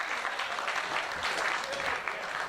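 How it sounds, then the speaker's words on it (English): Steady, dense applause from a large wrestling event audience, loud and sustained throughout with no pauses. "A round of applause for Papadon,"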